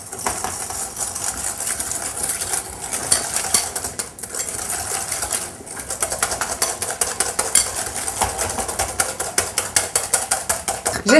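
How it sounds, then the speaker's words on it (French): Egg yolks and sugar being whisked vigorously in a bowl for a chocolate marble cake, a fast continuous scraping and clicking rhythm that quickens toward the end, close and alone. "on va ajouter le sucre dans les jaunes. Et on va les fouetter énergiquement pour les faire blanchir"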